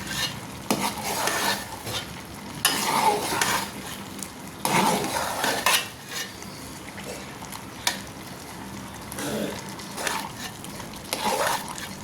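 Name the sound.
stirring bottle gourd and lentils frying in pan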